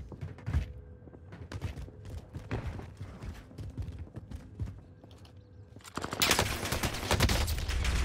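Gunfire in a Call of Duty match, rapid bursts of shots crackling through the first half, then a louder dense rattle of nearby automatic fire closing out the stretch.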